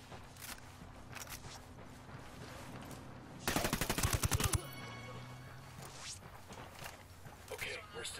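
Gunfire in the video game Ghost Recon Wildlands: a rapid burst of automatic shots, loud against quiet game ambience, with faint speech before and after it.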